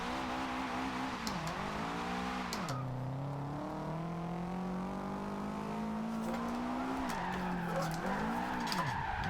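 A Subaru WRX STI drifts in Forza Horizon 2, its engine droning and rising and falling through gear changes as tires squeal and skid continuously, with no talking.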